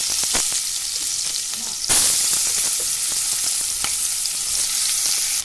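Chopped onions, bay leaves and dried red chillies sizzle in hot oil as they are stirred. A dense, loud frying hiss is broken by repeated scraping strokes, and the sizzle swells sharply about two seconds in.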